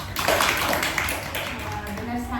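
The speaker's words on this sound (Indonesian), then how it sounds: "Kita kasih tepuk tangan untuk Nana." A group of people clapping for a student, a short burst of dense close applause that fades slightly toward the end.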